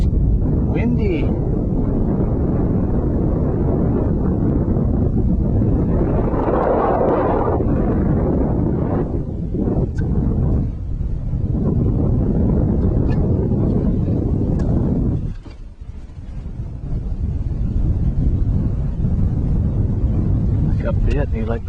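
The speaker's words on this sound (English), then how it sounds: "Windy." Heavy wind buffets the microphone in a continuous low roar, gusting stronger and easing, with a brief lull partway through.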